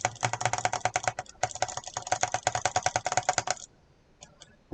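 Rapid computer keyboard typing, played alongside Halo 3 Forge mod editing: dense, close clicking runs almost continuously for several seconds with brief pauses, then stops, and a few isolated key clicks follow.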